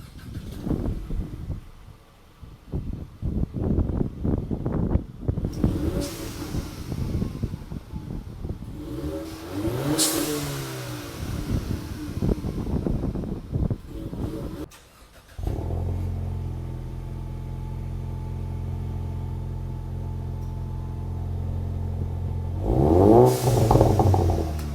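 A 2019 Mustang EcoBoost with its exhaust resonator removed is started and revved repeatedly, with loud throaty bursts that rise and fall, then settles into a steady, rumbling idle before a final rev.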